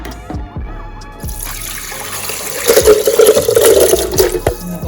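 Water poured into a pot for cooking Jamaican seasoned rice, a splashing, gurgling stream that grows louder and fuller after a few soft knocks at the start.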